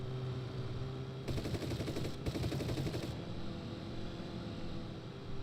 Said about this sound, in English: that is a lot of automatic gunfire